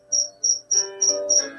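A cricket chirping indoors in a house, with about six evenly spaced, loud, shrill trills close by and nothing else around it.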